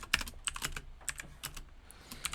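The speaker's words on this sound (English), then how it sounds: "My R key is like really stuck on my keyboard." Someone types on a computer keyboard that has a sticking R key, producing quick, irregular clusters of close, crisp key clicks with short pauses between bursts.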